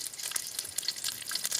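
Garlic frying in a spoonful of ghee in a pan for a Mangalore-style chicken ghee roast gives a steady, close, moderately quiet sizzle with crisp crackles throughout, with no talking.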